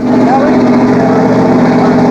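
A drained-oil car engine kept running on Prolong engine treatment, giving a steady, loud, even hum with a strong low drone throughout, while voices talk over it.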